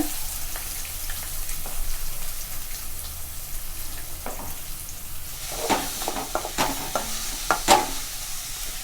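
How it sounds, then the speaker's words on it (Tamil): Curry leaves and large onions hit hot oil that already holds cinnamon and a small leaf, for a South Indian lentil-ball chukka. A soft continuous sizzle runs throughout, with sharper crackles and spoon-stirring clatters growing busier toward the end. "அது பொரிஞ்சோடனே கொஞ்சம் கருவேப்பிலை, வெங்காயம் போடுறேன்."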